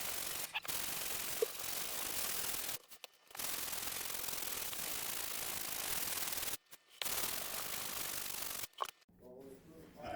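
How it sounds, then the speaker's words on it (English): Hand sanding on the body of a badly damaged guitar under restoration, a continuous close scratchy rasp in long strokes broken by a few short pauses. "sanding some more,"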